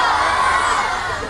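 A festival crowd at Sirsi Utsava 2025 cheers and yells loudly, a dense wall of shouting voices that holds steady for a moment and then eases slightly.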